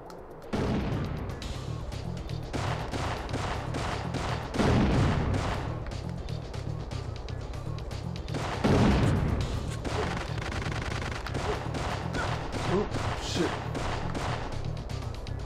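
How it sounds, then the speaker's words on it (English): Grenade explosions and gunfire in the Syphon Filter 2 video game form loud, dense volleys with heavy booms, continuous throughout and mixed with a game soundtrack and voices. "Someone's throwing grenades like an asshole."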